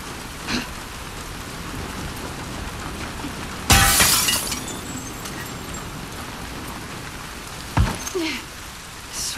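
Glass shatters twice in The Last of Us Part 2, with a sharp loud crash and then a smaller break, over a steady patter of rain.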